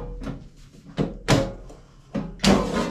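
A new Cosori dual basket air fryer's basket shuts with several solid clunks and thuds, close and fairly loud, in irregular succession with no talking.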